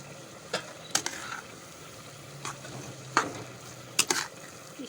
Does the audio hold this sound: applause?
no